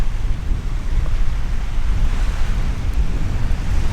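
Sea surf rolls in at a coast at the end of a hike through Germany, a continuous loud wash of breaking waves with heavy wind buffeting the microphone and no voices.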